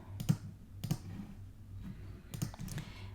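Computer mouse clicks while working in Cricut Design Space, three quiet, close, separate clicks spaced about a second apart with a short pause before the last.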